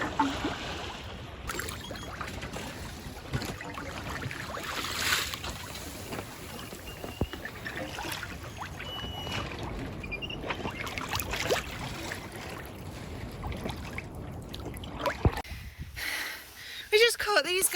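Wind and water rush steadily around a sailboat sailing along with its engine off off Baja, a soft hiss with occasional splashes and knocks, while voices speak at times.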